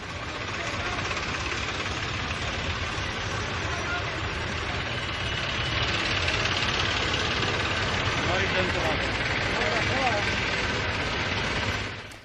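Tractors at a farmers' tractor rally held in support of agricultural reform bills, a steady dense rumble of several engines throughout, with crowd noise and voices mixed underneath.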